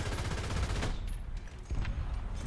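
Tank cannon fire in War Thunder, shots loosed blind at long range: a dense, steady barrage of low booming blasts and rumble running throughout, with a sharper report near the middle.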